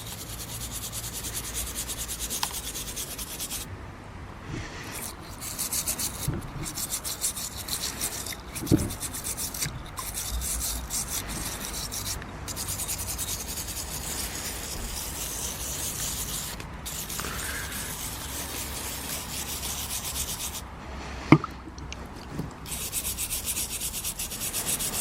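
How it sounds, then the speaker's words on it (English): A brush scrubs an old vinegar-soaked piece of metal, a close, continuous rasping scrub in repeated strokes with brief pauses and a few sharp knocks. "So I'm going to give that now a bit of a scrub in with the brush"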